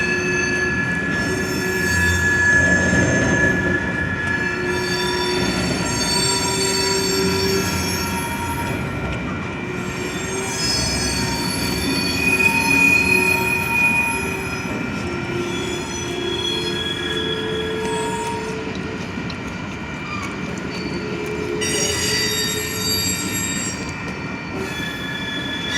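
Long Union Pacific manifest freight train rolling past a rail junction into a yard, steady roar of railcars with persistent high-pitched wheel squeal rising and falling throughout, close and continuous, no voices.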